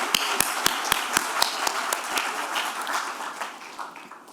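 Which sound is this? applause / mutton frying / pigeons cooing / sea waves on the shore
applause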